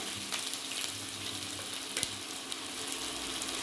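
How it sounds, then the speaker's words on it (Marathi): Finely chopped onion frying in hot oil, a steady close sizzle with occasional crackles and light stirring, no voices. "आता हा बारीक चिरलेला कांदा ॲड करूया"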